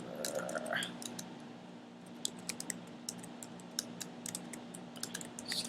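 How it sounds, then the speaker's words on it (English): Rapid, irregular clicks of typing on a computer keyboard while writing HTML, close and fairly quiet, over a low steady electrical hum, with brief speech at the start. "Excuse my typing."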